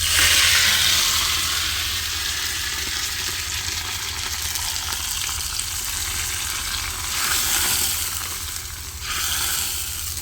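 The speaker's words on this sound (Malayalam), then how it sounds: "ഇതിലേക്ക് നമുക്ക് എന്നിട്ട് കറിവേപ്പിലയും കൂടി ചേർത്ത് കൊടുക്കാം." Curry leaves and mustard seeds sizzle in hot oil with a continuous bright frying hiss, swelling in short surges as the pan is stirred, with no talking.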